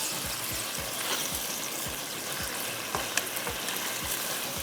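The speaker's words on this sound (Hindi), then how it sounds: "इसको मैं थोड़ा भुनाई करूँगी" Chicken for murgh masala browns and is stirred in a pan, with a steady frying sizzle and a regular series of soft low knocks from the spoon moving through it, with no talking.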